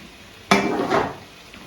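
Pieces of calf tail drop into simmering olive oil in a pan, setting off a sudden loud sizzle that surges, swells again briefly, then settles to a softer hiss.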